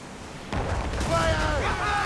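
Ship cannon fire during a naval battle in Assassin's Creed Rogue, a sudden heavy boom that rolls into sustained rumbling, with crew members shouting over it.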